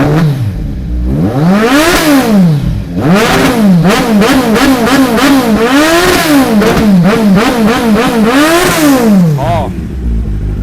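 A motorcycle engine revs hard again and again, pitch climbing and falling in loud, close bursts of throttle for about ten seconds.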